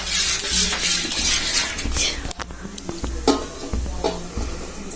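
Cardamom being stirred into a sweet mixture at home, with close, steady scraping and rubbing strokes of a spoon against a pot, a few light clinks, and faint voices in the background.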